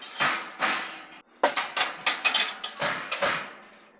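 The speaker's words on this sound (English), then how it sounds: "I can grab some of these pots and pans and show you what this looks like" Pots and pans set down one after another on a metal three-tier drying rack, a series of loud, sharp metallic clanks and rattles with brief pauses between, heard up close without talk.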